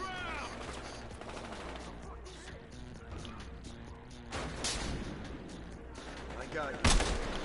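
Gunfire from a Battlefield-style shooter game, with a sniper rifle among the weapons, rattles under a talking player, with louder sharp shot bursts near the middle and a hard crack near the end.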